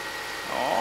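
A Honda Civic engine idles steadily at about 1,200 rpm, with a low continuous hum that rises slightly toward the end of the short stretch.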